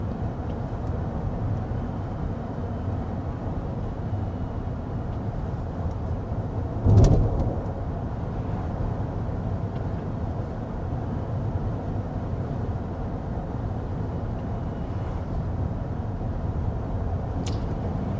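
Steady, muted road and wind rumble inside the cabin of a 2025 Volvo EX90 SUV cruising at 55 mph, an even low hum throughout with one brief soft thump partway through and no talking.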